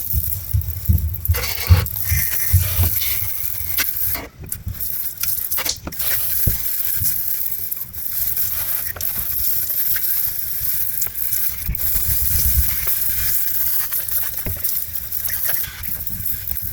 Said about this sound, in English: So first I'm cleaning with my brake cleaner.